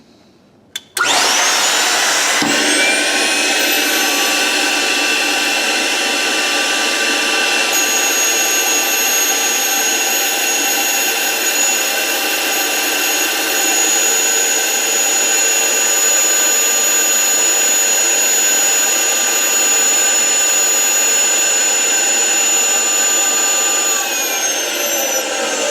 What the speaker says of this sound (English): We're going to turn on the air suction.